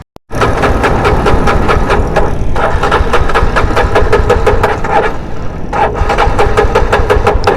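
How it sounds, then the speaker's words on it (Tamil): A KRF motorcycle engine that has overheated is cranked without catching. The loud, close starter whirr runs almost continuously with rapid regular pulses, and two short breaks fall partway through. "ஸ்டார்ட் ஆக மாட்டீங்க மறுபடி என்ன ப்ரோ ஸ்டார்ட் ஆகல அது கொஞ்சம் சூடாச்சு வண்டி"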